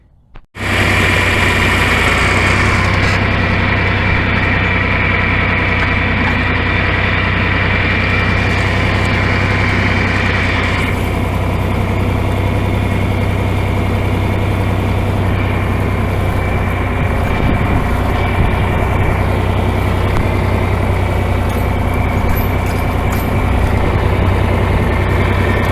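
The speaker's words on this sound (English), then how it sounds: "I'm going to fire up this tractor and go give it a try." An old tractor engine starts up and runs at a steady loud idle close by, with a constant low drone and a slight change in tone partway through.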